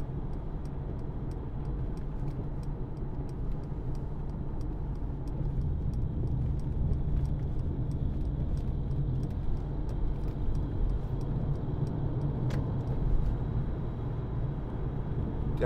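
A 2014 Mercedes-Benz C220 CDI BlueTEC with G-Tronic automatic cruises down a dual carriageway, a steady low road and engine rumble heard from inside the cabin, with faint regular ticking over it.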